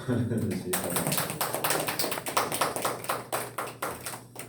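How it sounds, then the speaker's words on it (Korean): A congregation at an early-morning church service claps to welcome visiting guests: a brisk, rhythmic run of many hands clapping together, fairly close and steady, after a brief moment of quieter sound. "환영의 박수"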